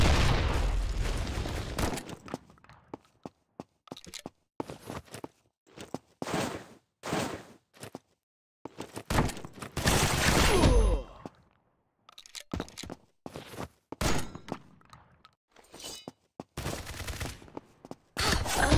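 Shotgun blasts in a video game, a string of loud, sharp bursts separated by silent gaps, some in quick clusters and others spaced apart, with a voice speaking between the shots.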